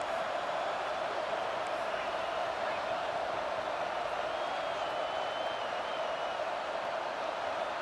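Stadium crowd in the College Football 25 video game roaring before a big third down, a steady, unbroken wash of distant crowd noise with a sustained tonal hum and no distinct cheers or claps.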